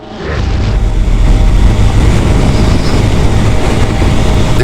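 A scooter rides the road from Tetuán to Ceuta, its engine and wind roar loud and steady, a dense continuous rumble with no voices.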